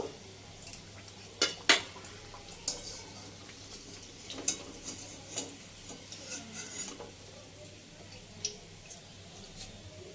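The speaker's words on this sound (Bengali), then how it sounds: "ভাজাগুলো উল্টে পাল্টে লাল ব্রাউন করে ভেজে নিয়েছি। মিডিয়াম ফ্লেমেতে ভাজা হয়ে গেছে।" Khaja pastries frying in hot oil over a medium flame, a faint sizzle running under sharp intermittent clinks and scrapes of a metal utensil turning them in the pan.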